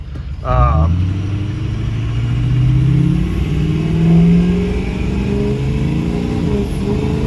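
A 2004 Ford F-250 Lariat 4x4 Powerstroke diesel pickup pulls away, its engine note climbing steadily and loud from inside the cab as boost builds after a slow start.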